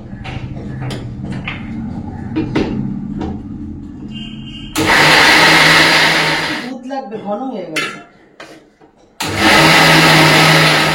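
A mixer grinder whirs loudly in two short bursts, blending oats, dates, yogurt, almonds, cashews and raisins. Someone speaks during the pause between the bursts.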